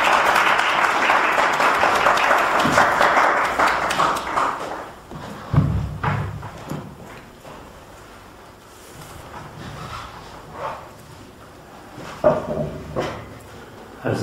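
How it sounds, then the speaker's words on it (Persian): Audience applause in a lecture hall greets a speaker before a talk on teaching children the art of living, a dense clapping wash that swells for several seconds, then thins into scattered claps and a few thuds. "با یک تشویق به استقبال صحبت‌های استاد"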